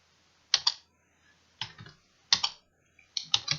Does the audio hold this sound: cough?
no